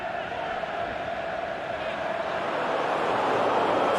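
Video game football crowd in a PES 2020 Master League match, a steady dense roar of many voices with a gentle swell toward the end, continuous and fairly loud with no single voice standing out.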